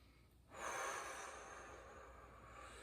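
One deep, forceful breath drawn in through the nose during a breathwork and movement session, a close, airy rush that starts sharply and slowly trails off, heard alone without speech.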